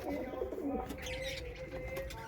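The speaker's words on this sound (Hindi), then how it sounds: "हमारी जो जंगली की काली और सफ़ेद कबूतरी है उसने फिर से 2 अंडे दे दिए हैं।" Pigeon at a home loft with a black-and-white wild-type hen, giving soft low rolling coos close by, with faint chirps and a brief flutter in the background.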